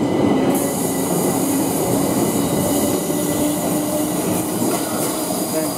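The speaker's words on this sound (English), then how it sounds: "A 10 car train." A 10-car Southern Class 377 electric train pulls away from Clapham Junction, its steady rolling rumble and wheel noise holding loud and close throughout with no voices.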